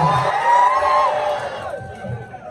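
At a leaders meeting, a crowd shouts and cheers loudly, a mass of raised voices and whoops that swells and then fades slightly toward the end.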